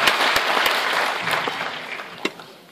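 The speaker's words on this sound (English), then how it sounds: "Give him a big round of applause." Brief audience applause for a Garda singer performing with the Garda Síochána Band at a citizenship swearing-in ceremony, a short burst of scattered clapping with a few sharp individual claps standing out.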